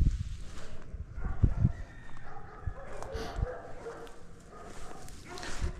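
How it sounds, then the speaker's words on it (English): Dogs bark and yip in short bursts amid a noisy background, with some human voices mixed in and occasional whimpering. "They're barking at you, silly."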